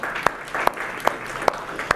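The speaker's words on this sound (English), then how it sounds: "A round of applause for you guys." Audience applause from a seminar crowd, steady hand clapping filling the whole stretch, fairly close and even, punctuated by a few sharper claps standing out at regular intervals.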